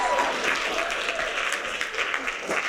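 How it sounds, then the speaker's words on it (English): An audience at a high school theatre production of Guys & Dolls Jr claps steadily in a dense, continuous round of applause, with no talk over it. "All right, one more big round of applause."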